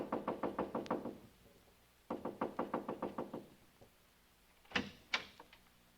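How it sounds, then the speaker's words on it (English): Two rapid bursts of knuckle knocking on a house door, about eight raps each, then two single heavier knocks, all close and crisp against a quiet background as a radio drama effect. "So I just kept knocking and knocking."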